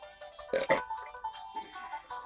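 Someone burps after drinking Rainier Lager beer: a short, throaty, close belch followed by a few softer guttural sounds.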